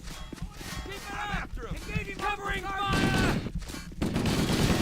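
Shotgun blasts from ODST troops in a Halo-themed Men of War editor battle, several sharp shots amid running sounds and chaotic gunfire, with people talking excitedly over the action.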